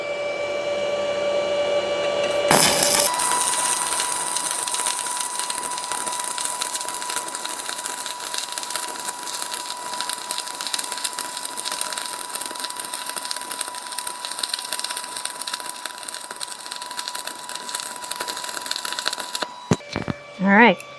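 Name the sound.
stick welding with 1/8 inch rod at 90 amps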